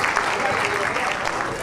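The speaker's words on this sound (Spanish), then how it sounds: "El aplauso fuerte para padre e hija celebrando esta noche especial" Audience applause and cheering for a father and daughter at a quinceañera celebration, a dense steady wash of clapping that fills the whole moment at even loudness.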